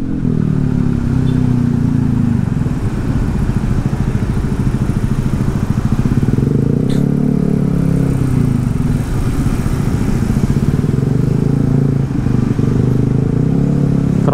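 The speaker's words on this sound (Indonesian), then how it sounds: "Motornya di belakang lumayan berisik ya." Motorcycle engines drone steadily in busy evening city traffic at a red light on Gunung Soputan in Denpasar, a continuous loud low rumble of several bikes idling and revving nearby throughout, with no talking.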